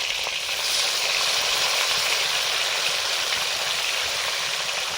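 Nigella seeds and chopped tomato sizzle steadily in hot oil, a dense, loud, continuous frying crackle that holds evenly for the full stretch with no voices.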